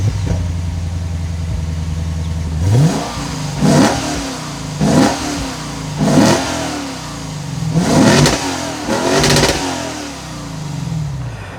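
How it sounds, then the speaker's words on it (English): A 2024 Lexus IS 500 F Sport idles with a low exhaust rumble from its stacked exhausts, then revs sharply several times in a row, each rev swelling briefly before falling back to idle. "look at these stacked exhaust, really mean looking and sounding"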